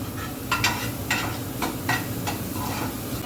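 Vegetables sauté in a pan for momos, giving a steady sizzle under repeated scraping stirs at a moderate, uneven rhythm, close and fairly loud with no voices.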